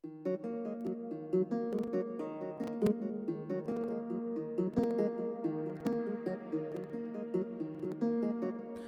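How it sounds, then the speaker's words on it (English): A repetitive plucked guitar pattern from the FL Studio Flex Ace of Spades preset in an amapiano beat, quiet but steady with regular rhythmic note attacks and no voices. "I used this Ace of Spades preset from the guitar section, guitar banks, and it sounds like this."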